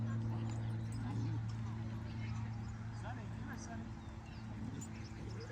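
Dogs bark, yip and whimper at a moderate distance over a steady low hum, with people talking through much of it.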